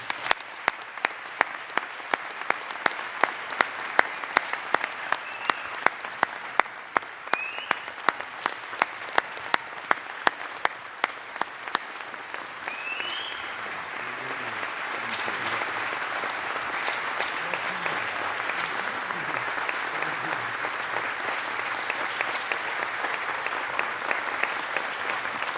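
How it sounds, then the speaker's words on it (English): An audience at a 2017 college presidential inauguration claps. Distinct, evenly spaced claps at first swell into steady, dense applause that fills the hall at moderate distance. "We applaud you and thank you."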